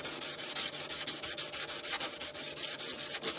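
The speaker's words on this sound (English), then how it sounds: "I'm going to key up this with some light sandpaper so the glue sticks" Hand sanding a metal casting on a Kibri ballast wagon part with light 150 grit sandpaper: quick, steady rasping strokes repeat rhythmically at close range, alone with no talk.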